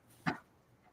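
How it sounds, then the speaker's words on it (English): A dog excited while playing with her ball gives a single short bark, faint and somewhat distant, against quiet room noise. "My dog is freaking out with her ball."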